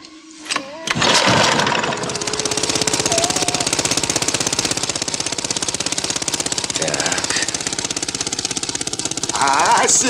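An engine fires up after a few sputters and then runs loud and close with a fast, rough, hammering rhythm, a voice briefly heard before and near the end.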